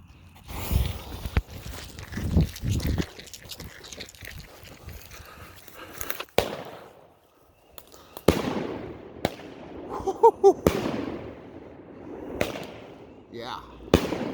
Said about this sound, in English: Noisemaker by Pyro Diablo. New brand for this year, 12 shot.